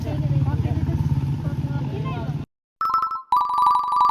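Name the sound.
mobile phone ringtone, incoming call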